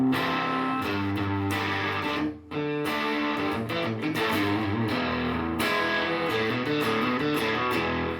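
An electric guitar is played through a heavily distorted fuzz pedal, giving thick sustained chords and notes that ring loud and saturated with a brief drop midway.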